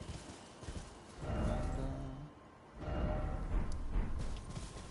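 Horse hooves pound in a gallop in the video game Elden Ring, two loud bursts of rapid clip-clop separated by a quieter stretch, with no speech.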